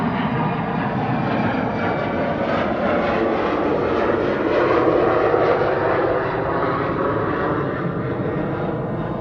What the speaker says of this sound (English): and then an Embraer 190 to Stuttgart